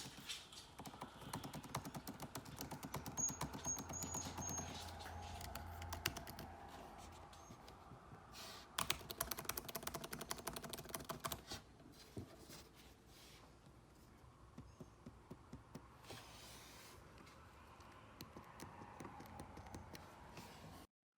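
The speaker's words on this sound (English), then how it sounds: "the keyboard on the older model, which is on the right side, makes a clicking noise when you press the keys" Rapid, irregular clicking of 2017 MacBook Pro butterfly keyboard keys being pressed, close up, in bursts with brief pauses and no talking.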